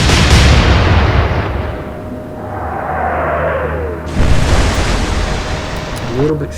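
Naval artillery from a warship in the Atlantic Fleet video game, with a loud booming salvo at the start and a second heavy blast a few seconds later over a constant roar of sea and wind.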